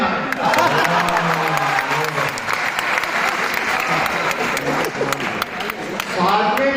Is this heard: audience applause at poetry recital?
yes